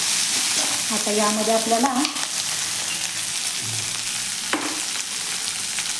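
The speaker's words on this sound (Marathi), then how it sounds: "हाय फ्लेमवरतीच आपल्याला हे छान असं परतून घ्यायचं आहे" Capsicum is stir-fried on high flame for street-style soya chilli, making a loud, continuous, close-up sizzle with tossing and stirring, while someone briefly talks over it.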